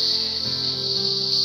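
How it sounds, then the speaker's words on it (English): Cicadas in the Australian bush drone in a piercing, continuous high-pitched buzz that stays loud and unbroken. "All I'm hearing is the piercing sound of cicadas"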